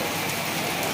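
Rain pours down outdoors in a steady, dense hiss, loud and continuous for about a second with no voices.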